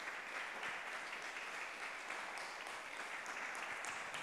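A church congregation applauds Jesus Christ with a soft, even patter of clapping that carries on without a break.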